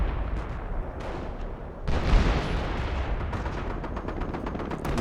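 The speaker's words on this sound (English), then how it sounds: "Another artillery strike from that howitzer." A howitzer artillery strike in the World War II strategy game Company of Heroes: a loud blast partway through that opens into continuous rumbling explosions and crackling gunfire, with no talk.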